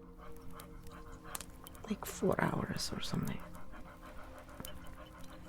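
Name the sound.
dog panting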